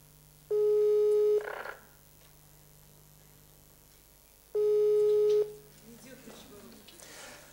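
Two long telephone line tones, each about a second, sound during an unanswered radio call-in, with quiet gaps between them and faint studio noise afterward.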